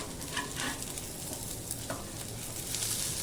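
Fish shallow-fries crisp in a pan with no oil, a steady close sizzle and crackle with a few soft scraping stirs.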